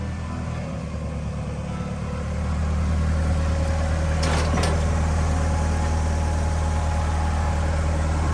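A shop truck's engine idles and rumbles close by, growing louder as the vehicle backs up over a hose, with a brief mechanical rattle near the middle.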